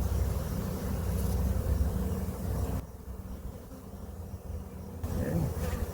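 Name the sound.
honeybees buzzing during beehive inspection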